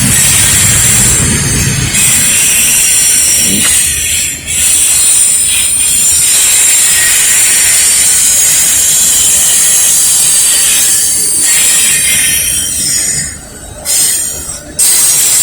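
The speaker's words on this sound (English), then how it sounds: "Mixed freight train and some intermodals on it." A northbound Norfolk Southern mixed freight with intermodal cars rolls past at the Lynchburg station, a steady loud rumble of wagons with high hissing wheel squeal running throughout.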